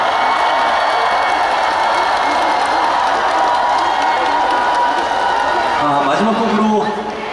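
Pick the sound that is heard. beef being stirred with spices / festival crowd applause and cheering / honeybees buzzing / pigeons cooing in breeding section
festival crowd applause and cheering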